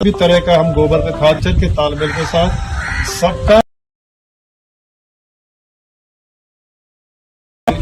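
Crows caw in a farm field, their calls mixed with a man's speech and other outdoor sound for a few seconds before the sound cuts to silence.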